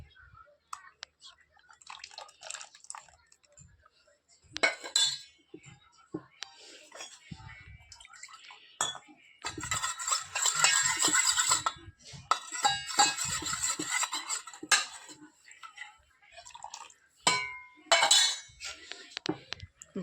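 A spoon mixes custard into a sago fruit dessert in a pot, with clinking and scraping in bursts and wet stirring swishes, close and fairly quiet, under occasional soft talk.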